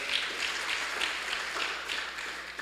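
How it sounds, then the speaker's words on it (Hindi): Applause from a church congregation during a Sunday Hindi worship service, a steady wash of many hands clapping at moderate distance, sustained throughout with no voices over it. "क्यों ना परमेश्वर को एक बार फिर से हम जोरदार तालियों के द्वारा धन्यवाद दें"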